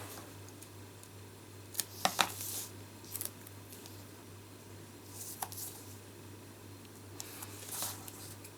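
Quiet, sparse scissor snips and crisp paper-cutting sounds, a few clustered early then scattered, close by over a low steady hum.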